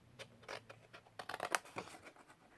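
Scissors snip through scored cardstock, cutting a small V notch for a tea light lantern; a run of quiet, close crisp snips and paper scrapes comes in short irregular bursts, with no talking.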